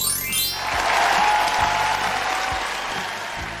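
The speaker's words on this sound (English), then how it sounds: "Give yourself a big round of applause" A class applauding itself during a radio lesson, a brief burst of clapping with a faint tone and low thumps underneath.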